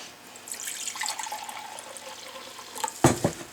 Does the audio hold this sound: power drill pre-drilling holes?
no